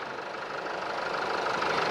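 A car engine runs steadily at idle, a continuous mid-pitched mechanical rumble with a faint rattling texture throughout.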